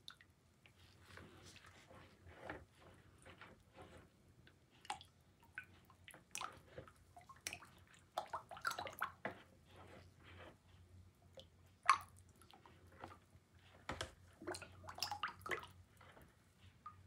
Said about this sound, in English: I am going to stir these little bubbles out of there